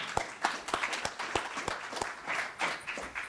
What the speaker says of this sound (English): yes, I'll applaud with you on that, Robert